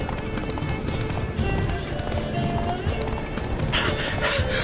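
Roach the horse galloping in The Witcher 3: Blood and Wine, steady clip-clop hoofbeats and a whinny over game music and ambience, with brief voice activity.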